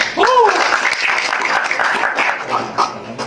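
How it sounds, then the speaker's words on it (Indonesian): Audience applause at an Indonesian business community seminar as a participant is invited to share, a short burst of clapping with a voice and a brief tone at the start, tapering off. "Silakan Pak Gino, tepuk tangan."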